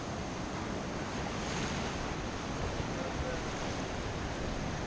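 Ocean waves wash in at Mirissa beach in Sri Lanka as a continuous broadband roar of surf mixed with wind buffeting the microphone, steady throughout.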